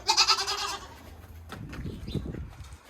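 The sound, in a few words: Alpine breed dairy goats bleating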